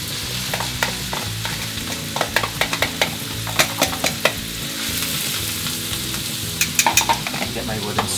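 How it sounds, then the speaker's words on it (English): Onions fry in hot oil in a pan, a steady sizzle close up, broken by repeated sharp scrapes and clicks of stirring, with no voices. "Nice and hot. Start with our onions."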